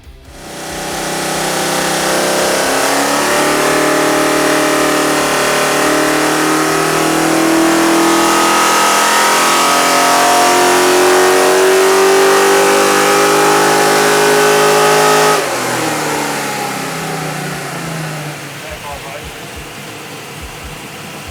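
A nitrous-fed drag wagon's engine on a dyno: a loud engine sweeps up in pitch under sustained throttle for over ten seconds, then drops off to a lower, rougher settle.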